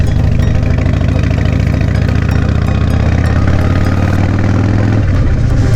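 A motorcycle engine idles close and loud, a steady throbbing low rumble with a slight shift in pitch toward the end, with no voices over it.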